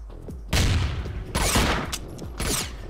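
Grenade blasts and gunfire from the shooter game El Matador, three heavy booming bursts roughly a second apart, each with a rumbling rolling tail, loud and close.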